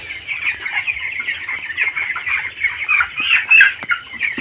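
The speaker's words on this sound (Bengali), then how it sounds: "এগুলো হচ্ছে 20 দিনের মুরগির বাচ্চা।" Twenty-day-old chickens cluck and cheep throughout a poultry farm shed in the evening, a continuous overlapping chorus of many birds, fairly loud and close, with no talking.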